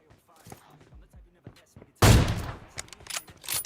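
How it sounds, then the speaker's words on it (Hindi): An AWM sniper rifle fires in the video game PUBG Mobile, one loud sharp blast with a ringing tail that stands out after quieter in-game sounds. "और इसी आखिरी शॉट के साथ चिकन चुकन हो जाता है।"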